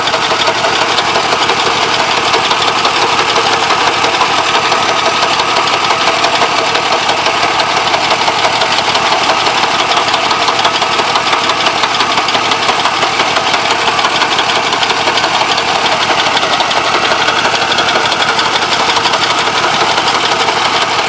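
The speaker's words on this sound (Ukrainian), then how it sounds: "не поламався механізм, доїхав до краю і трактор не важкувато, пробуксовують коліщатка" A tractor engine runs steadily and loudly during potato digging in a village field, with a rough, knocking drone that never lets up.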